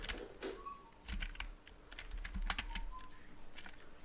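A name being typed on a computer keyboard: a quiet, irregular patter of close key clicks with short pauses between.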